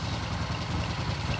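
A vintage British motorcycle engine idles steadily after a rebuild, with a low, even, throbbing rumble, continuous and moderately close, with no voices.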